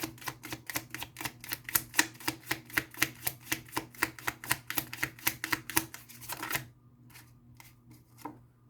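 Tarot cards being shuffled, a dense run of quick crisp flicks and riffles in steady rapid rhythm for about six seconds, close and fairly quiet, then a few scattered soft card taps before falling away.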